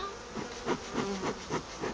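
Honeybees buzzing close by at a hive, a steady drone that swells in short pulses every few moments, with no voices.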